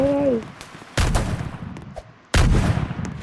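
Pistol shots in a video game arena match, two loud sharp close bangs with ringing decay, after a brief tonal game sound at the start.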